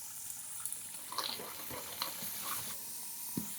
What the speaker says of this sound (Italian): facciamo andare per 30 secondi il sauté senza acqua e senza vino